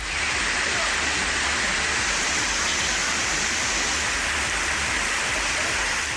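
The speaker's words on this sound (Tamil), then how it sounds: "இடி மின்னலுடன் பலத்த மழை பெய்தது" Heavy rain pours in a dense, steady roar of close, loud downpour throughout, with no distinct thunderclap standing out.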